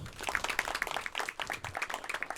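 An outdoor crowd at a park opening dedication applauds in a dense, steady patter of many hands clapping, sounding moderately distant and fairly faint.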